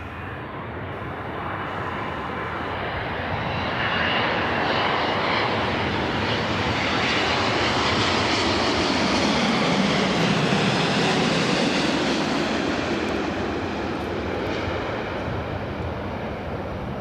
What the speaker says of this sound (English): This is the United 787-10 Dreamliner, Flight 38 coming in from Tokyo.